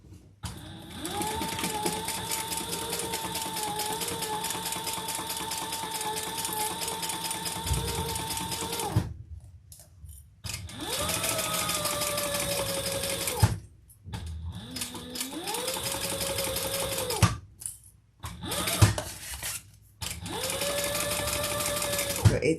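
A sewing machine basting together a Luna shoulder bag runs in steady, close bursts of stitching, stopping and restarting several times with short pauses between runs.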